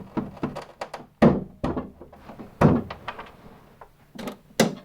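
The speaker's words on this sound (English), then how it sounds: "Our next job is to chop away the waste. So make sure your chisel's good and sharp for this." A sharp chisel struck with the palm of the hand to chop waste from a wooden deck beam joint on a 2.4mR sailboat, a run of close, dull thunks at an uneven pace, some louder than others.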